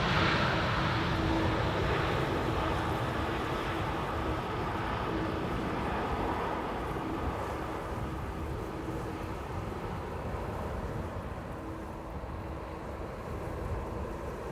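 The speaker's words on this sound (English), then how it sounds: "Atlas also disappointing in the audio department with an idle reverse landing" An Atlas Air plane landing on Schiphol's Polderbaan runway 18R with idle reverse thrust, a steady broad roar of jet and rushing air holding for the whole stretch, fairly loud and unbroken.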